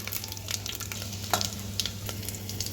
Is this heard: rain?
no